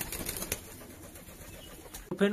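Domestic pigeons, some with clipped wings, coo softly against a low background, and a short burst of wing flapping comes near the end.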